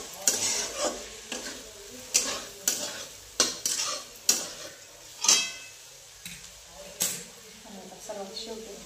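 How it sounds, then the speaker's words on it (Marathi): A vegetable mixture with crushed peanut powder fries in a pan while a spoon stirs it in regular metallic scrapes and taps over a soft steady sizzle, close by. "आणि परत व्यवस्थित हलवून घेतले"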